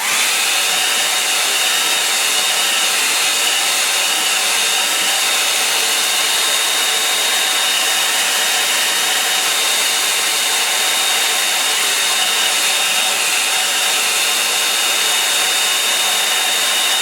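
A hair dryer blows steadily to dry paint on a painting, a loud, close, continuous whooshing roar that holds unchanged throughout with no talking.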